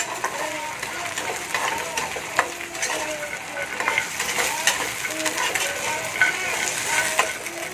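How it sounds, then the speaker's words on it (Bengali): Lentil dumplings (bori) with prawns fry in a pan, a steady close sizzle broken by frequent scraping and clinking stirs of a metal utensil, with no talk. "এটাকে আমি ভালো করে নেড়ে নেবো, বড়িগুলোকে আমি ভালো করে ভেজে নেব।"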